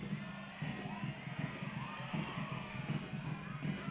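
A stadium crowd at a Northern Super League women's soccer match between Montreal Roses FC and Calgary Wild FC at Stade Boreal cheers steadily from a distance, with rhythmic drumbeats pulsing beneath the roar and a commentator's voice over it.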